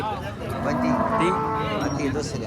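Cows at a cattle market moo, long loud nearby lowing calls with rising and falling tones that overlap one another above a busy background hum.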